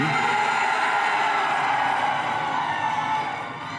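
Graduates at a Mines undergraduate commencement cheer in a loud, sustained roar of crowd noise and whoops that fills the hall before slowly easing off.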